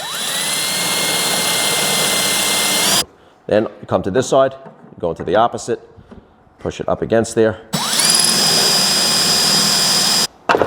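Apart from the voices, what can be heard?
drill pre-drilling drawer side with 6mm bit in jig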